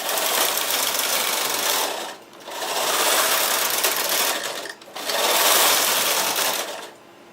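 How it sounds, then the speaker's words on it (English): A domestic knitting machine fitted with a ribber knits mohair yarn in tuck stitch, giving loud, steady whirring carriage passes, three long sweeps back and forth with brief pauses between them. "I push in both of the tuck buttons and I'm just going to knit"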